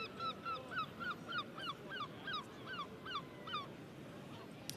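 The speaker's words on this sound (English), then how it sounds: "Those seagulls swooping." Gulls over a cricket ground during a one-day county match, Somerset against Lancashire, give a steady run of repeated nasal calls, about ten in a row, moderately near above a dense crowd and ambient background.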